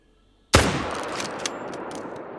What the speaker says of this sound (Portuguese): esperei a respiração do boneco acabar e atirei